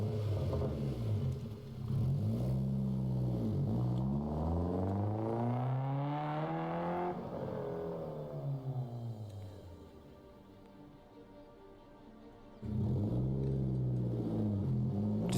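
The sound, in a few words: race car engine sound effect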